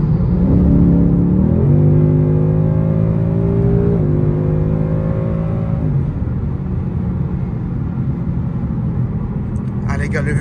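A Ford Mustang GT V8 heard from inside, a loud, deep rumble that rises in pitch through two stepped surges of acceleration before settling back to a steady drone, with a short clattering noise at the very end.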